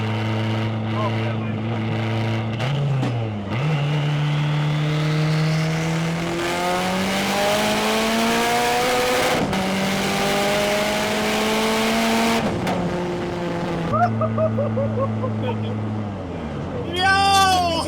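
A Nissan S13 240SX with a newly fitted turbo accelerates hard through the gears on a street pull, engine pitch climbing steadily with shifts and turbo whine, loud from inside the cabin while occupants talk and exclaim.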